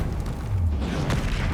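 A Confringo spell blast in Hogwarts Legacy lands as a deep, muffled boom, with a low rumbling impact and a few brief crackles after it.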